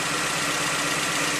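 A 1987 Toyota MR2 engine idles steadily with an even, continuous mechanical hum and faint rhythmic pulsing, close and moderately loud, with no voices over it.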